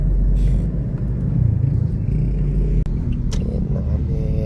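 A Toyota Innova 2.8 climbs uphill in third gear, its engine producing a steady, loud low rumble that holds throughout with slight swells in effort and no one talking.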